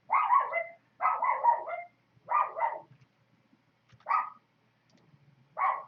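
Dogs bark repeatedly at close range, with bursts of several barks followed by single sharp barks, spaced by short silent gaps.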